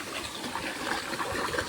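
Water running through an irrigation channel on a farm, a brief close gush and gurgle that holds steady without voices.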